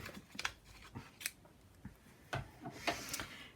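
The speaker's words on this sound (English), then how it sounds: "I'm just going to trim off some of that cotton." Scissors snip through cotton fabric in a few sharp, separate cuts with short pauses between them, close and fairly quiet, with nobody speaking.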